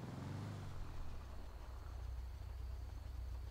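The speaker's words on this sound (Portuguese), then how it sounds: "Olha o barulho do motor" A damaged van's engine runs steadily in GTA 5, a constant low rumble that stays at an even level for a few seconds, with no voices over it.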